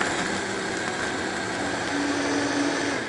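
A Vitamix blender runs on its smoothie preset, a steady whirring motor hum held at an even level for the whole stretch, with a slight rise in pitch near the end and no voices.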